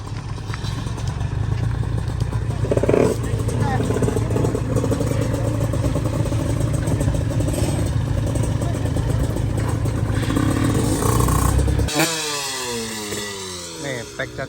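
A genset engine drones steadily and loudly close by, with people talking over it. Near the end the engine sound drops away and shifts.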